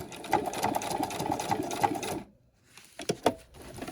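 A sewing machine runs a fast, even stitch across a backpack strap seam for about two seconds, then stops, followed by a few faint short bursts and clicks.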